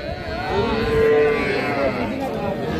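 Cattle at a market, with one cow lowing in a long, loud moo close by over a background of crowd chatter.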